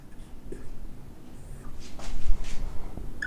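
A marker or chalk writes a note heading on a board, with soft, scratchy strokes and a few brief squeaks over a low room hum, close and fairly quiet.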